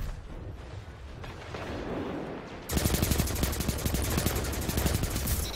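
Rapid automatic gunfire in the sci-fi shooter Destiny, a steady stream of loud, evenly spaced shots starting abruptly after a quieter stretch of game ambience and continuing to the end.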